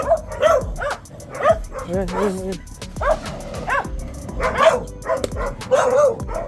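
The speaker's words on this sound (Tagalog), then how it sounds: "Grabe makatahol yung mga aso" Several dogs bark repeatedly in sharp, overlapping bursts, some yipping and whining, while a person speaks briefly between the barks.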